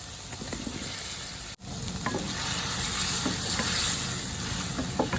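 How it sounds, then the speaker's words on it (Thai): Meatballs being stir-fried in a pan with seasonings, making a loud, continuous sizzle up close while a utensil scrapes and stirs them, and a brief dropout in the middle. "ใส่ลูกชิ้นลงไป"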